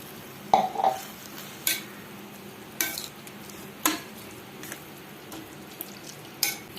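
A spoon stirs carrot halva with milk and sugar in a pan, giving sporadic scraping clinks against the metal about once a second over a faint simmer, with no speech.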